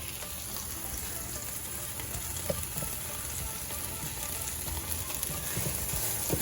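Onions and peppers fry in a pan with a steady, even sizzle that carries close and alone throughout.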